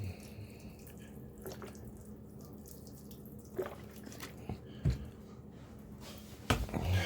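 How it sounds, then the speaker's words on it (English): Rubbing alcohol rinsed over a computer motherboard, a faint steady trickle of liquid with scattered soft drips and splashes, close and quiet. "All I'm doing is rinsing all that loose stuff off the motherboard now."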